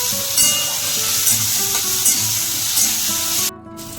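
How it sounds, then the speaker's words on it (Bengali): Chopped tomatoes stirred and fried in a pan for Bengali cabbage ghonto, loud continuous sizzling with rhythmic scraping strokes of a spatula, ending in a brief dip. "এবার অ্যাড করে দিচ্ছি কেটে রাখা টমেটো। ভালো করে নাড়াচাড়া করে টমেটোগুলোকে ভেজে নেব।"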